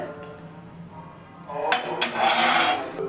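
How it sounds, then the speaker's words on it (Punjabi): A metal kadhai wok clanks and rattles as it is set down on a gas stove, the clatter loud and close after a quieter start. "ਇਧਰ ਕੜਾਹੀ ਰੱਖ ਲਈ ਆਪਾਂ ਨੇ ਗੈਸ ਤੇ"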